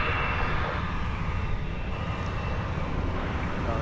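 An Airbus A321 jet airliner at DFW airport gives off a steady broadband engine roar that holds at a moderate level throughout, with no voices.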